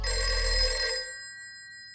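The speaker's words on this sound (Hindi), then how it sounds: "बज गई घंटी।" A telephone bell rings loudly in one burst, then cuts off and leaves a thin metallic tone fading away, with no voices.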